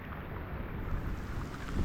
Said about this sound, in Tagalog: Yung hangin ba pang nagwawala, zero visibility na doon